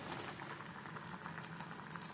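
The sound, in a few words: pot of broad beans boiling on the stove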